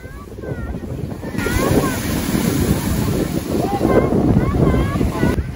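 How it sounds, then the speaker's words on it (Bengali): Sea waves roll in at Patenga sea beach in Chittagong on an early morning during a low-pressure spell. A steady, loud wash of surf mixes with rumbling wind buffeting the microphone, with faint voices in the background. "পানির ঢেউয়ের শব্দে সে বারবারই ভয় পাচ্ছিল"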